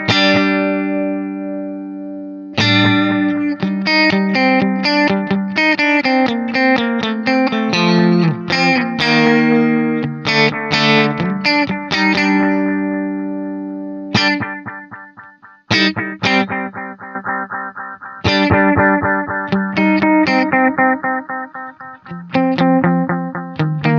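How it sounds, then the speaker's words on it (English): An electric guitar plays through the analog delay mode of a Line 6 DL4 MkII pedal, short plucked phrases with warm repeating echoes trailing after each note, clear and upfront with no talking. "The next delay is an analog delay, so just a great analog echo"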